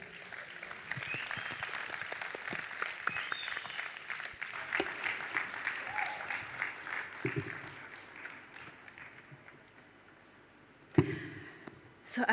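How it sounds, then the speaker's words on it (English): Applause from an audience at an Afri-Caribbean investment summit, a fairly faint, steady patter of clapping that gradually thins out, with a few sharp knocks near the end. "I think that deserves an applause now."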